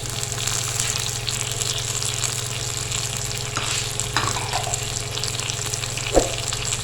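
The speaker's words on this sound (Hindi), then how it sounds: "प्याज हमारा जो है वो आहिस्ता आहिस्ता से पक रहा है, गोल्डन होना शुरू हो गया है।" Chopped onion and tomato frying in a pan, a continuous moderate sizzle with a low steady hum underneath and a single sharp clink near the end.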